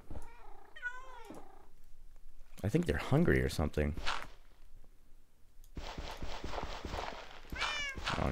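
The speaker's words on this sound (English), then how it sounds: "have no clue whatsoever why they're meowing." Cats in the video game Minecraft meow repeatedly, with several distinct mewing calls near the start and end while someone talks in between and over them.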